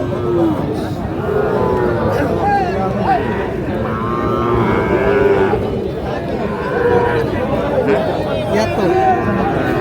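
Sahiwal bull calves at a busy cattle market low with repeated drawn-out moos, near and loud, over steady crowd chatter and people talking.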